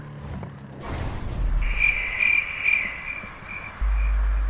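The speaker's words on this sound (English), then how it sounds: "Where them crickets at?" Crickets chirp in the video game GTA 5, a repeated high-pitched trill of pulses heard over background noise, followed by a low rumble near the end.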